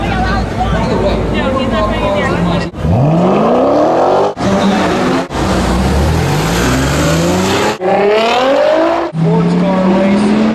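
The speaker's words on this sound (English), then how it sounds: "sports car racing" Sports racing cars roar around the Homestead-Miami Speedway, with loud engine notes sweeping up and down in pitch as cars rev and pass close by, several runs in a row separated by abrupt cuts.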